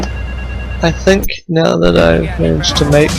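A telephone rings in the Grand Theft Auto III video game, a steady electronic tone that opens the clip and returns in short bursts while someone talks over it close to the mic.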